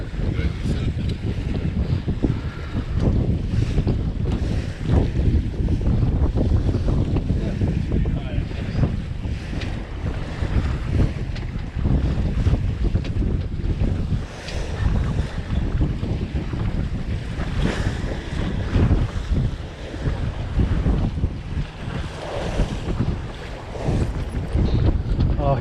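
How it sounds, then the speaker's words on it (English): Wind gusts roar across a microphone aboard a sailboat, the Mirage, on open water during a Sunday race, a loud sustained rushing with surging swells and splashing water underneath throughout. "Oh, here's a gust."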